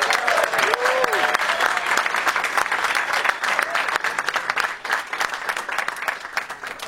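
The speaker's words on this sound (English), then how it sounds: "Let's give them another round of applause." An audience at a fan Q&A with two actors in Massachusetts bursts into sustained applause, dense clapping filling the room for several seconds, with a voice briefly heard over it.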